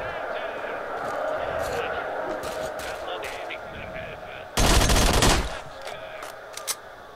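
Gunfire in the S.T.A.L.K.E.R. video game: a loud burst of shots lasting about a second stands out over a busy game soundscape, followed by a few sharp, quieter reports.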